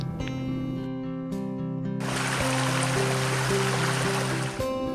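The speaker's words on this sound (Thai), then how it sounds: "มุ่งไปหาน้ำตกตาดวิมานทิพย์" Water rushing at Tad Wiman Thip waterfall in Bueng Kan, Thailand, a steady broad roar that becomes loud and continuous, with a tonal hum underneath.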